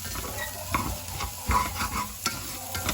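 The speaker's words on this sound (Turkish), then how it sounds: "Birazcık kavrulsun suyunu ekleyeceğim." Vegetables sauté in a pan over the stove while a utensil stirs and scrapes through them, giving a soft continuous sizzle with occasional light clinks, close by and with no talking.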